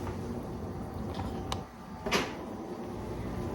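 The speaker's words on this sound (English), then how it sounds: "Let me close the oven door." An oven door swings shut in a home kitchen after sweet potato pies are taken out, a single short thud with a brief clatter, moderately close against steady background hum.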